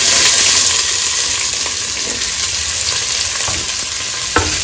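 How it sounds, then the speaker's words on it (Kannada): Two small-chopped onions fry in oil in a pot for a homemade biryani, a loud, steady sizzle with occasional stirring clatter and no talk. "ಸ್ವಲ್ಪ ಈರುಳ್ಳಿ ಕೆಂಪಾಗುವಂತೆ ಇಟ್ಕೊಂಡಿದ್ದೀನಿ"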